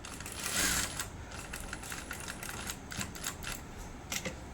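A sewing machine runs in quick bursts of stitching while hemming a folded blouse edge, a soft rapid clatter close by and fairly quiet, with short pauses between runs.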